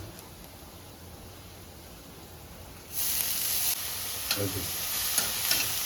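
Onion drops into a hot pan with butter and begins frying, a soft background hiss jumping to a louder, steady sizzle with scraping stirring sounds close by.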